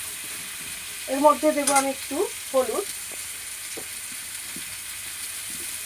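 Onion, potato, papaya, tomato and green chilli frying together in oil for a thin chicken curry, a steady soft sizzle running throughout while someone talks briefly over it.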